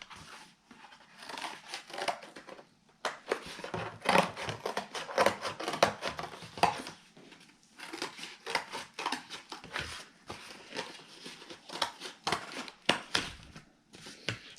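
Scissors cut a paper triangle out of a drawn outline for a sock puppet, giving a steady run of close, crisp snips and paper rustles with brief pauses between cuts.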